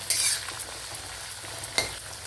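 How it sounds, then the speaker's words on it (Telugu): Lentils fry in a pan with a steady close sizzle, broken by a few sharp scraping strokes of a spoon stirring them. "ఈ పప్పు కూడా బాగా వేగాలి, వేగిన తర్వాత ఉడకాలి, అప్పుడే బాగుంటుంది."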